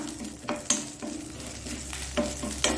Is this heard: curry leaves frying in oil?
yes